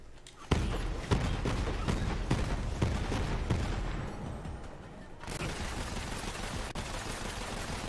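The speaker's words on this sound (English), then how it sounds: "Hyperion sniper rifle." Rapid gunfire from a Hyperion sniper rifle in the video game Borderlands 3: loud repeated shots in a dense, steady volley, then a brief lull before heavy firing noise resumes.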